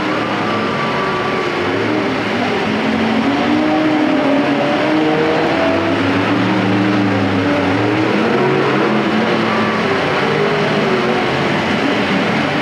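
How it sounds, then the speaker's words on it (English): Race car engines drone and whine steadily at a figure-8 main event at Perris Auto Speedway, rising and falling as cars pass, with a constant dense roar throughout. "those are the two cars battling for the lead in the points"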